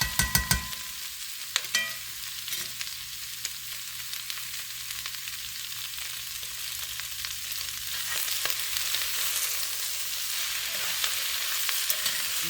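Cabbage fries in a pan for mixed greens, giving a steady crackling sizzle with a few sharp clatters of a utensil stirring early on, rising slightly toward the end.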